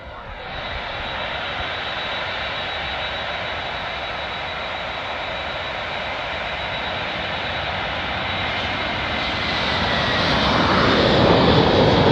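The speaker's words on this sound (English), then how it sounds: "Turkish 330 just blasted off" Turkish Airlines Airbus A330 taking off at Manchester Airport, a sustained loud jet engine roar that builds steadily toward the end.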